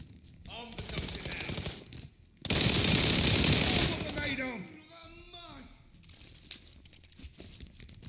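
Bursts of automatic gunfire in the video game World War 3, with a loud sustained volley in the middle, a shorter rattle before it and scattered shots afterward, all close and harsh.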